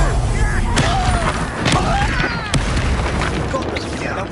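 An Incendio fire spell blasts in Hogwarts Legacy amid loud, dense combat with deep booms, sharp impacts and whooshing effects. Voices talk over the action.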